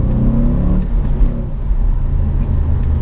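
2006 Audi RS4 B7 with its naturally aspirated V8 pulling hard in second gear, a deep, loud, steady engine drone rising in pitch from low revs, heard close with no talk.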